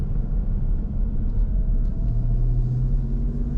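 A 2020 Jeep Grand Cherokee Trackhawk engine giving a steady deep rumble from inside the cabin, with a faint rising tone late as it accelerates, no talk.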